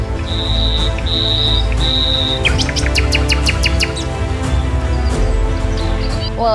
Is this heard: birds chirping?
yes